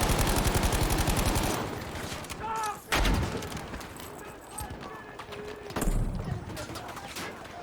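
Weapon gunfire in the video game Battlefield V, with rapid bursts early on and then separate sharp shots, while people talk over the game sound.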